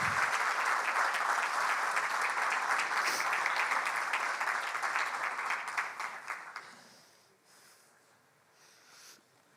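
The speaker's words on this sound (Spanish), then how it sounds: "Con un fuerte aplauso le damos la bienvenida y damos lugar para que comience su exposición" Loud, continuous audience applause welcomes a speaker at a financial-markets panel during a 2023 finance conference, holding strong for several seconds before fading away to near silence.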